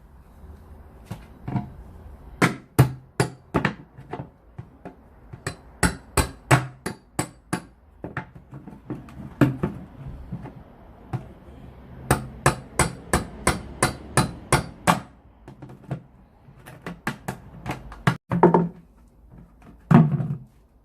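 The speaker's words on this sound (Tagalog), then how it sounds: "Pupukpukin ko na lang siya ng martilyo." Sharp, repeated hammer strikes ring out in uneven bursts, loud and close, with short pauses between runs of blows.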